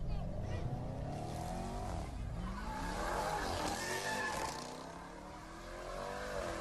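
Several Jeep Trackhawks in a parking garage rev with a high supercharger whine over deep engine roar. Pitch sweeps up and down, the sound booms off the concrete, and faint voices sit underneath.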